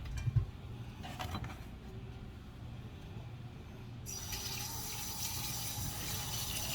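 Tap water pouring into a sink to rinse yams, a steady splashing rush that swells louder midway as the flow strengthens, with faint handling knocks early on.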